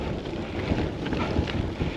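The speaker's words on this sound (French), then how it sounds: "Et là, on a le vent dans la gueule." A headwind buffets a cyclist on a long road ride, producing a constant loud rushing roar of wind across the microphone with no pauses.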